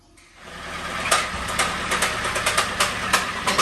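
A Land Rover Defender 90 engine catches and runs roughly, with a close, uneven knocking pulse repeating steadily over a low rumble after the start.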